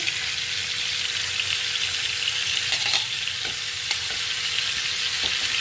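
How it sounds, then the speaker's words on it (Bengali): Mrigal fish frying in hot oil over a high gas flame gives a steady, dense sizzle with a faint crackle. It runs unbroken and close, with no voices. "দেখো বন্ধুরা, মাছ ভাজা চলছে"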